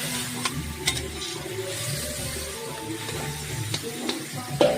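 A mushroom curry with spices and water bubbles and sizzles softly in a pan while it is stirred, with occasional clinks of the utensil against the pan.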